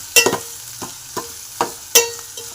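Drumstick leaves with turmeric fry in a pan, stirred with a utensil that scrapes and clacks in several sharp strokes over a soft sizzle, fairly loud and close, no voices.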